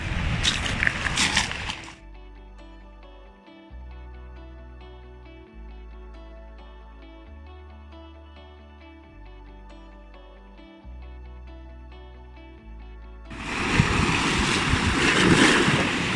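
Strong gusts buffet the microphone with roaring wind noise, briefly at the start and again at the end, with a steady musical passage in between, on a windy coast in the Var, France.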